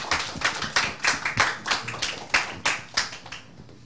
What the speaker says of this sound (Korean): 자, 박수 한번 주시죠.